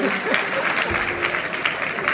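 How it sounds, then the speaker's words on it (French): At an awards ceremony, a room full of people claps warmly for a couple of seconds, steady applause with a voice speaking French over it. "On applaudit pour elle, c'est gentil."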